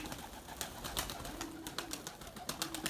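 Pigeons beat their wings in quick, rhythmic bursts close by, a run of sharp flapping claps with soft cooing underneath.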